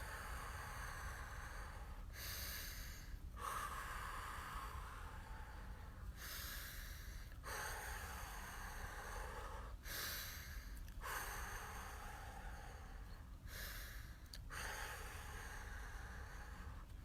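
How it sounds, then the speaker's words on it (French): Slow, deep breaths taken in and drawn out in a steady rhythm during a sunny outdoor morning wake-up exercise routine, each breath lasting about a second or more and close to the listener. "Inspirez, soufflez."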